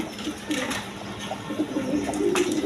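Maltese pigeons coo in low, soft repeated calls close by, the murmuring continuing steadily through the short stretch with faint background rustle.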